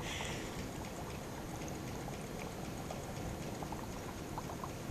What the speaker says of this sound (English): I know it looks like it's boiling, but it's actually freezing.